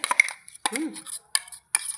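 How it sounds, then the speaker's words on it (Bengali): A metal wok (kadai) is set down on a gas stove in a home kitchen during Bengali cooking, giving a few close clanks and light metallic clinks and scrapes separated by brief quiet gaps. "আমি কড়াইটা বসিয়ে দিয়েছি গ্যাসে।"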